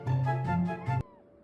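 A house cat meows in a series of close, loud, drawn-out cries, about four pulsing calls in a row, then a sudden cut to near quiet.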